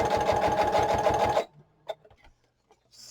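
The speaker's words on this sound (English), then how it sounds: "I'll stitch along the bottom up to the center, and then pivot" An electric sewing machine stitches a pocket onto a junk journal page, running in a steady rapid rhythmic burst for about a second and a half before stopping, followed by faint handling clicks.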